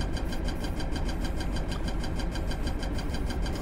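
Compressors aboard a research vessel in Stormworks run steadily as they fill dive tanks to 1,000 liters, a continuous mechanical engine-like drone with a rhythmic pulsing hum, loud and constant, with no talking.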